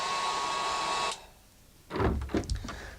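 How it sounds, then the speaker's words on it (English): A small hairdryer whirs with a high steady whine, then switches off, followed by a few clattering handling sounds nearby. "even a small electric hairdryer"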